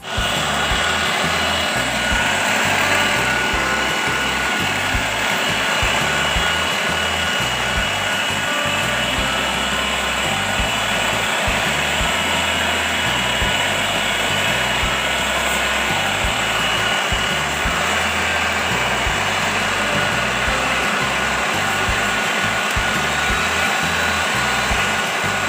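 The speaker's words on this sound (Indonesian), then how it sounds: "Dan ini kita mulai mixer ini telur dan gula di mixer sampai berjejak ya, sampai kembang." An electric mixer beats eggs and sugar for a layered cake, giving a loud, steady whir that runs unbroken throughout with no talking.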